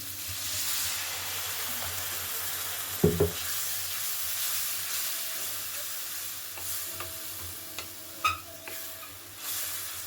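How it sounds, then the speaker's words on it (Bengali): Spice paste fries in a pan after a little water is added, giving a steady soft sizzle and hiss, broken by a few sharp scrapes and clinks of a stirring spoon against the pan. "মশলাটা যাতে পুড়ে না যায় সামান্য জল দিয়ে দিলাম"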